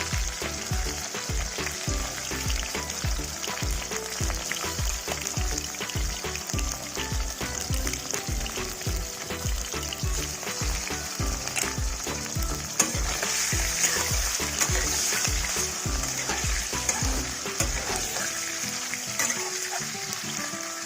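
Chicken pieces dropped into hot oil in a pan sizzle and crackle loudly and steadily, with bursts of stirring and spattering throughout and no talking.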